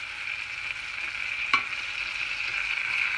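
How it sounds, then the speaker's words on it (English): Pieces of rested pork hit a hot pan and sizzle steadily, a broad hiss that holds for several seconds with one brief sharp clatter partway through as the meat is stirred. "So chuck the pork in."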